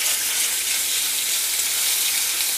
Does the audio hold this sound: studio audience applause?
no